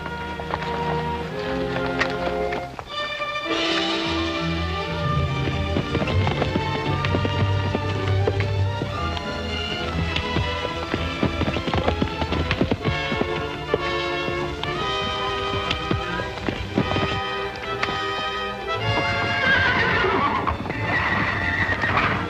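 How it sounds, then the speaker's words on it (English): A Pinto stallion whinnies loudly in a 1937 western film scene, with hooves clip-clopping and dramatic orchestral music playing throughout. "Tie the Pinto stallion up and get ready to turn Volcano loose"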